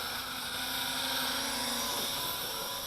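A Syma X9 Flycar drone car in flight and losing power, its small rotors giving a steady, loud whirring buzz with a high whine running unbroken throughout.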